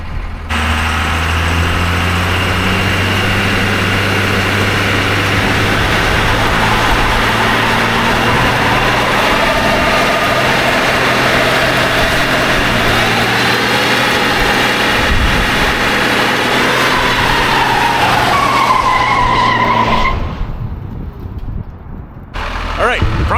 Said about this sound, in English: All right, we're going to try to do burnout.